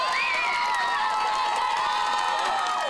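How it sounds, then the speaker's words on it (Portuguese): A crowd cheers at a gymnastics competition, a continuous wash of voices with high shouts and whistle-like whoops rising above it, loud and sustained throughout. "A torcida vibrava em cada apresentação"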